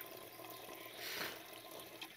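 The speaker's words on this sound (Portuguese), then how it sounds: "A água cai dentro da chaleira." Quiet, steady trickle of spring water pouring into a kettle, swelling slightly midway, with no voices.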